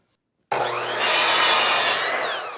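Lumber for a chicken run is cut outdoors with a power saw. The blade bites in abruptly, then a loud whining cut rises and holds for about a second before easing off, close by and with no voices.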